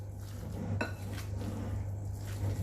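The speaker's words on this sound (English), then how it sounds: "You can use your hands if you want, but I am okay to use the spoon." A spoon stirs turkey mince with several tablespoons of oil in a bowl, giving soft, steady scraping and faint clinks against the bowl, with a sharper knock near the start and another at the end.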